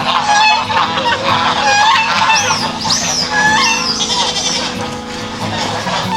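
Several geese honk loudly and repeatedly at close range, their calls overlapping in a noisy, continuous chorus.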